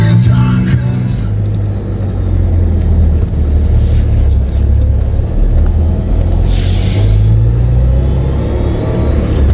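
A Chevrolet Colorado truck with oil pressure issues and a loose exhaust drives along, its engine giving a steady low rumble with road noise throughout, close and fairly loud, no talking.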